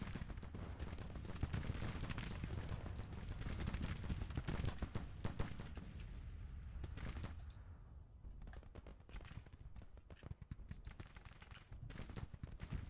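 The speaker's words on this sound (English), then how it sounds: "Churchill's getting artillery fire." Artillery fire in the Civil War strategy game Grand Tactician, Union campaign: continuous rumbling volleys and crackling musketry-like bursts packed tightly together, loud and sustained, thinning briefly midway before resuming.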